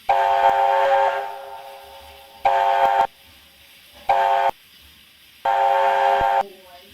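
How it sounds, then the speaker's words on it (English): A Chinese 5-chime steam locomotive whistle on a QJ steam engine in the Trainz video game sounds in four blasts, one long then three shorter, loud and chord-like with quiet gaps between. "And here is the secondary Chinese 5 chime."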